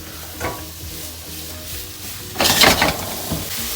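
Onions, ginger and garlic sweat gently in a pan for a Jersey katsu curry, a soft steady sizzle with a louder burst of frying and stirring midway, close and without talk.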